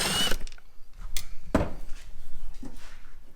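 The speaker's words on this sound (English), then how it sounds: "I'm going to take the screws out." Screws come out of a Milwaukee Packout rolling tool box, with short ratcheting clicks and a few sharp metallic taps and clacks spread out across the moment.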